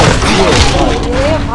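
Gunfire at infected zombies in the video game Dead Triggered 2, rapid booming shots over a dense rumble while a voice talks excitedly on top.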